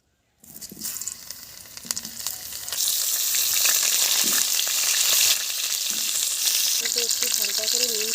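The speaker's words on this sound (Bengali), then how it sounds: "তেল দিয়ে দিলাম কড়ার মধ্যে, আলুটা ভেজে নেব।" Potatoes frying in oil in a kadai, a loud close sizzle that starts abruptly and swells into a strong hiss as they hit the hot oil, with faint scraping underneath and no talking.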